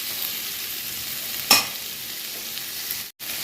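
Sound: stirring tomato, onion and spice masala for chicken fry

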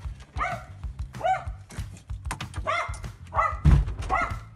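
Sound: dog barking

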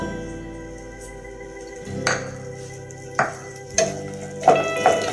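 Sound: okra added to hot oil, frying

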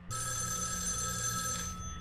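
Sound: telephone ringing in a video game

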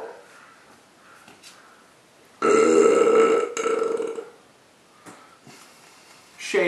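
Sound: loud burp

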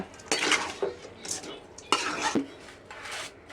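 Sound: stirring chicken with chilli and salt in pot

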